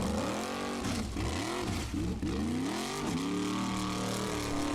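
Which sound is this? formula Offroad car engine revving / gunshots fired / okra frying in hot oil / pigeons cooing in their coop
formula Offroad car engine revving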